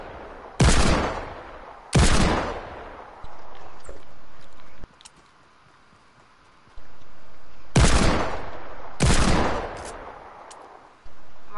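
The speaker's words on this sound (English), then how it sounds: "Watch me kill all these people with this deagle." A Desert Eagle pistol fires in a video game, four loud, sharp shots in two spaced pairs, each with a short echoing tail, over quiet background game noise.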